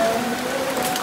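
Heavy monsoon rain falls in a steady, dense hiss on surfaces nearby, continuous and even, with no voices.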